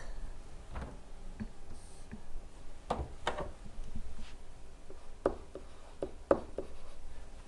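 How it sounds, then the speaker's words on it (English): A marker or stylus writing on a classroom smartboard makes quiet scattered taps and short scratchy strokes, close and intermittent with pauses between them. "let me try writing that again"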